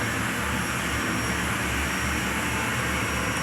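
A TEI TS1400 turboshaft helicopter engine running steadily at 29,000 rpm on a test stand, producing a loud, continuous broadband roar with a high turbine whine and no pauses.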